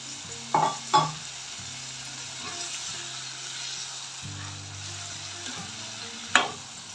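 Cauliflower frying in a pan with a little added water for a potato cauliflower fry: steady broadband sizzle throughout, with a few sharp utensil clinks and scrapes of stirring, close and moderately loud, no talking.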